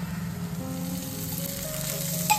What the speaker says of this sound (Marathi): आता मी पॅन मध्ये थोडंसं तेल टाकते. थोडंसं तेलामध्ये भाजून घ्यायचं.